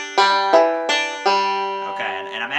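Plucked banjo notes ring out in a short lick with a slide, several bright twangy picks sustaining close and clear, followed by a brief murmur of voice at the very end.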